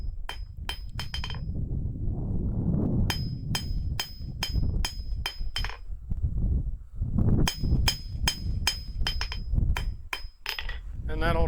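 Steel bar being hammered flat on an anvil during blacksmith forging of a belt buckle, with sharp ringing metallic strikes in quick bursts of several blows, pauses between groups, over a steady background rumble close by.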